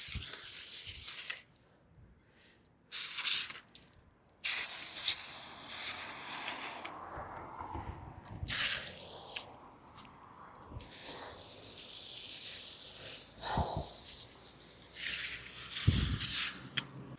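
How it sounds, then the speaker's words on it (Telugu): Water spraying across a rain-dirtied rooftop, a continuous loud hiss broken by a few short pauses, with spatters and splashing close by. "ఇక్కడ నీళ్ళు కొట్టేసి"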